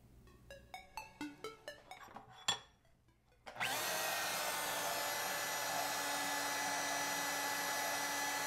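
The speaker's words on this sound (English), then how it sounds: "let's go take it to the bandsaw, cut it up" A bandsaw cuts scrap aluminum for diode cooling fins. A run of light metallic taps and ringing knocks comes first, then a short pause, then a steady, loud whirring drone that continues to the end.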